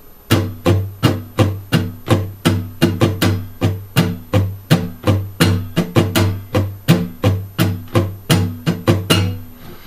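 Slow strumming on an acoustic guitar plays the lead part of a song, a steady run of crisp, evenly spaced strokes on ringing chords, close and clear with no talking.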